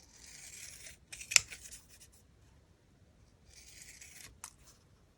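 Scissors snip a small fabric swatch nearby, in two quiet bursts of crisp cutting separated by a short pause, with a sharp click of the blades between them.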